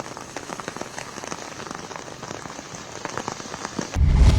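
Heavy monsoon rain pours down in Mumbai, drumming steadily on surfaces as a dense, even patter that swells into a louder, deeper rush at the very end.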